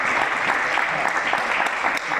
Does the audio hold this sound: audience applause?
yes